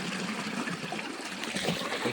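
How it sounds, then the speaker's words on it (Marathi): Water from a pipe gushing onto a farm field, a steady broadband splashing rush heard up close and continuous, with no voices over it. "या पहा किती पाणी"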